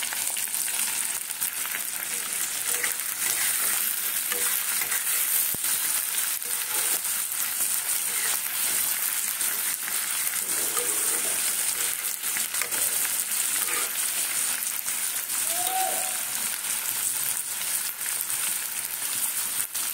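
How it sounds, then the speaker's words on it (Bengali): Onion and capsicum sizzle in hot oil in a pan while a vegetable curry is cooked, a steady crackling fry with occasional stirring scrapes throughout. "এইবারে পেঁয়াজটা দিলাম, পেঁয়াজটা হালকা ভাজা হয়ে আসছে"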